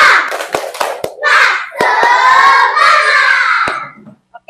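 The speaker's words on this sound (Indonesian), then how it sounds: "coba kita lakukan dulu tepuk semangat." A classroom of children does a rhythmic tepuk semangat spirit clap, with loud, close claps landing in quick patterned bursts between shouted chanting voices.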